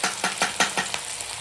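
Sliced onion hitting hot oil in a home kitchen pan, giving a steady broadband sizzle with soft rhythmic stirring pulses about every fifth of a second, close and moderately loud.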